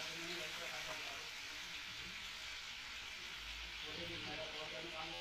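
Steady sizzling of tomatoes and spices frying in a pan, a continuous crackling hiss with faint kitchen clatter throughout.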